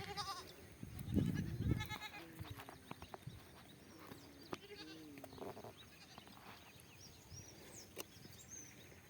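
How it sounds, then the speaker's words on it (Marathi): Goats bleat faintly a couple of times amid quiet farmyard noise, with some hoof clatter and scattered knocks. "बघा बकरं बसलेत गाय पण उभी आहे"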